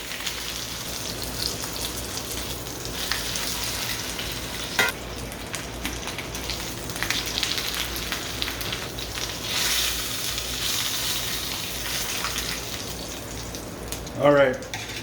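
A Wagyu beef round sears in a hot pan, with a steady, busy sizzle and spatter running throughout and a brief scrape or handling noise near the end.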